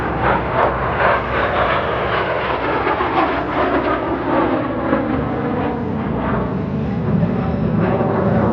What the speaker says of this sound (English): Consider as you look at this jet, how impressive it is still today.